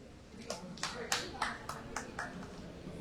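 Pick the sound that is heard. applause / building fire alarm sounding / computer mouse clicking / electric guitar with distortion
applause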